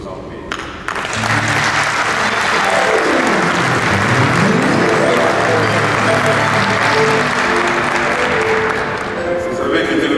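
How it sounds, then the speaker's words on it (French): Congolese diaspora congregation in Brussels applauding during a prayer gathering, a loud, sustained wash of clapping and crowd noise that swells after a brief pause and carries on steadily, with a sustained tone sliding down and back up partway through. "nous puissions d'abord demander à la diaspora congolaise de Bruxelles de vous applaudir"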